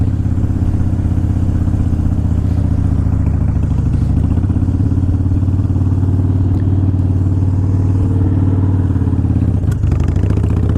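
A 2005 Harley-Davidson Wide Glide with ape-hanger bars rumbles loud and steady throughout a test ride, its low V-twin engine note holding constant with slight shifts in pitch.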